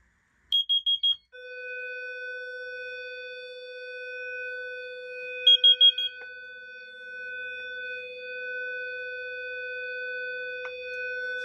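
A voice-evacuation fire alarm system under test sounds rapid beeping bursts, then a steady multi-tone electronic signal. The beeps repeat partway through, and no one speaks over it.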